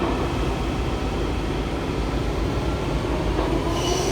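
A Kawasaki-built metro train, railcars 7126 and 7184, rumbles along from inside a car about four back from the front. The heavy, continuous roar carries faint wheel squeal and creaks and never drops away.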